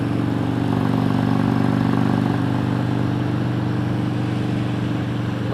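Motorcycle towing a trailer along a dirt road, its engine droning steadily and loudly up close with a constant low rumble and no voices.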